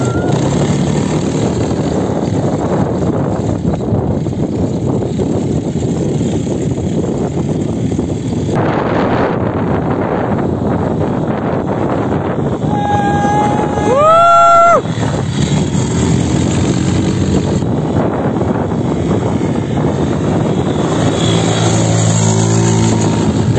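ATV quad bike riding over desert sand, a loud continuous engine roar mixed with heavy wind buffeting, with a brief rising rev partway through.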